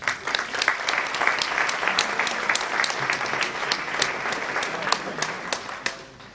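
A table tennis crowd applauds a player introduced before a team match, with sustained, crisp clapping of moderate loudness that tapers slightly at the end.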